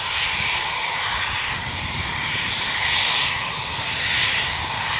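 Eurofighter Typhoon jet taxiing out at RAF Coningsby, a steady, loud engine roar with a high whine that swells and eases slightly, heard alone without voices.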